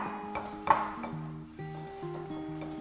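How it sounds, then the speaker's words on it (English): Mini spatula stirring batter in a bowl, soft repeated scraping and light taps against the bowl, close and fairly quiet, with a steady tonal hum running underneath. "So go ahead and give it a good stir."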